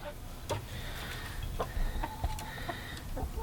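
Chickens kept on deep straw bedding over a composting pile give soft, scattered clucks and short calls with faint rustling, fairly quiet and intermittent, with no talking.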